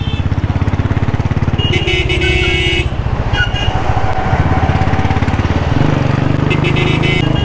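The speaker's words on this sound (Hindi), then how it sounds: "अरे भाई रेस हो गई बुलेट वालों के साथ में।" Royal Enfield Bullet motorcycles race along a road, with loud, close, steady engine thumping throughout, rising and falling in pitch as the bikes shift and pass.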